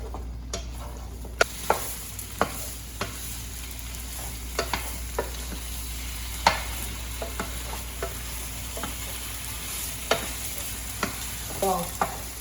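Precooked fish cakes for tteokbokki frying in a pan, a steady sizzle under sharp scattered clicks and scrapes of a utensil stirring them, close and moderately loud.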